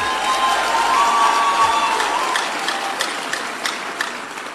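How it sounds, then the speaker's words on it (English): A crowd of young Nigerian rally-goers bursts into loud, dense applause that gradually thins and fades out. "Clap for yourselves."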